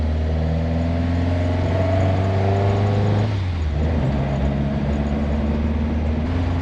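A Toyota KE70 Corolla with a rough-running, fouled-plug engine drives steadily, its mid-pitched engine drone continuous and fairly loud throughout, with a brief dip in tone midway as it changes load.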